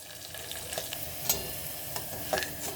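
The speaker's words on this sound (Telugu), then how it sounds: "ఇది బాగా వేయించుకుందాం" Tempering spices sizzle and crackle steadily in hot oil, with occasional stirring scrapes and a few sharp pops, close by and fairly quiet.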